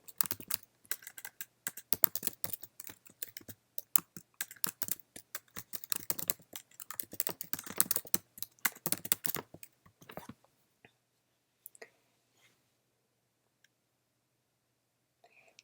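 Fast, close typing on a computer keyboard while entering a MySQL query, irregular bursts of crisp key clicks for about ten seconds, then a few scattered taps and near silence.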